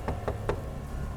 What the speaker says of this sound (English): I heard a faint knocking on the front door.